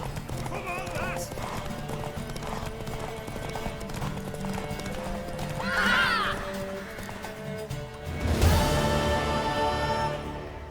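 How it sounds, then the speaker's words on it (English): Horses race at a gallop in The Witcher video game, hooves clip-clopping steadily throughout with whinnies and neighs, under game music and a cheering crowd, swelling louder near the end. "Ah, na corrida de cavalo."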